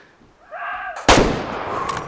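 A single loud, sharp rifle shot rings out in the hunting video game Way of the Hunter, followed by a long rolling echo that fades away. A soft animal call comes just before the shot.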